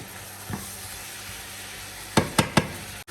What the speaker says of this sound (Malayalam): എന്നിട്ട് നമ്മൾ ജസ്റ്റ് ചെറുതായിട്ടൊന്ന് ഇളക്കി കൊടുക്കുക.